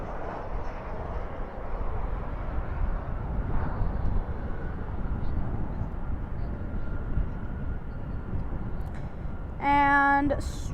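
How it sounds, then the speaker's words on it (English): An American Airlines Boeing 737-800 arriving from Fresno lands at Dallas/Fort Worth airport at night, a distant continuous engine rumble and roar with a brief tonal chime near the end. "We're going to go to the arrival of American Airlines Flight 2393 coming in from Fresno"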